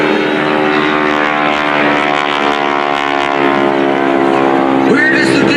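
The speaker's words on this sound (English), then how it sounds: "They're flatting out and stalling, and that causes that roar that you hear" A propeller plane roars low and loud at an airshow during a wingwalking act, a steady droning engine and propeller tone holding throughout, with the blade tips nearing the speed of sound.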